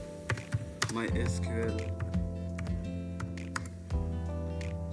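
Computer keyboard typing on a Windows 10 PC, a quick run of light key clicks under a voice talking over background music.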